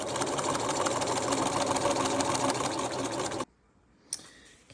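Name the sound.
sewing machine stitching a belt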